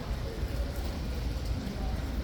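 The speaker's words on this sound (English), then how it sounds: "imminently we should have lifeguard horses coming through" Life Guards cavalry horses' hooves clip-clop in a steady walking rhythm, moderately close, under someone talking.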